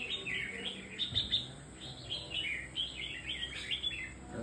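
Songbird chirping in quick, bright bursts of tweets, fairly close and repeated throughout over a faint background hum.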